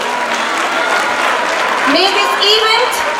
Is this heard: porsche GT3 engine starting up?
no